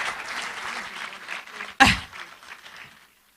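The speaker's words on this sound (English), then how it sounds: "On applaudit fort, on applaudit fort, on applaudit fort." Applause from a graduation ceremony audience: steady clapping that runs under the whole stretch, with one louder burst partway through, then fades out toward the end.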